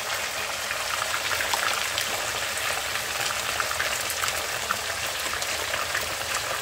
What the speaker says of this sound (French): on cuit les poissons